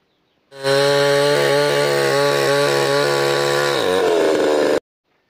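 A chainsaw starts up and roars loudly and close at a steady pitch while cutting wood into pieces, its tone dipping under load near the end before cutting off sharply.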